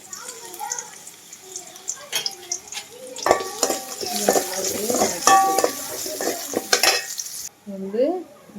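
Onions with crushed garlic fry in a pan for a spicy South Indian medicinal curry, with a soft sizzle under a woman's speech and spoon clatter against the pan.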